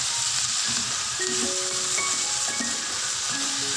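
Okra, potatoes and eggs fry with spices in a pan, giving a continuous close sizzle and hiss with faint stirring and small scattered clinks, steady throughout and without talk.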